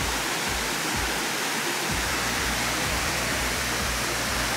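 Waterfall on the Mount Willard trail roars as a steady, close, full-bodied rush of falling water with no pauses, loud throughout.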